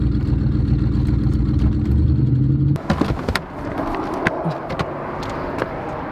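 A turbo C4 Corvette driving with its tires rubbing, a loud rumbling engine and road drone that shifts partway through into scraping clatter and knocks from the wheel wells.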